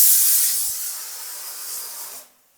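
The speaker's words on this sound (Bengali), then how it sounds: "নিয়ে এবার আমি প্রেসার কুকারটা বসিয়ে দিচ্ছি, দিয়ে আমি দুটো সিটি দেব।" A pressure cooker boiling potatoes releases a loud rush of steam, a broad hiss that tapers off over about two seconds and then cuts out.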